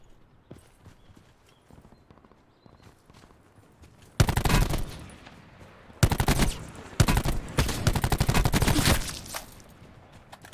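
Bursts of automatic gunfire in the Call of Duty Black Ops 4 Blackout battle royale mode, loud rapid volleys starting partway through and repeating in several clusters after a quiet stretch.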